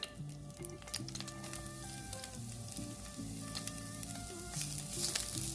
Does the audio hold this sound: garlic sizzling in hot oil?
yes